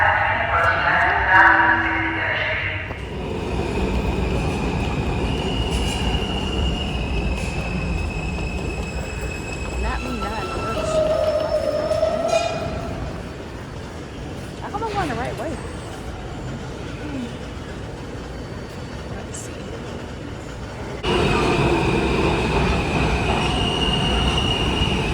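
New York City subway train running with steady rumble and rail noise, wheels squealing in bursts, loud and close from inside the car, with people talking over it at times.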